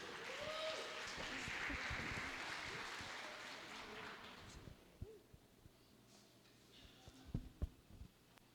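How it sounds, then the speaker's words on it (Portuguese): A church congregation claps for the preacher at an evening service, a soft diffuse round of applause for about four seconds that fades out, followed by a quiet room with a few scattered knocks and faint voices. "e as palmas louvem ao Senhor"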